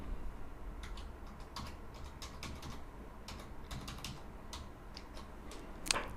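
Light, irregular keystrokes tap on a computer keyboard while an email address and password are entered, quiet and close, in short bursts with brief pauses, ending in a slightly louder key press.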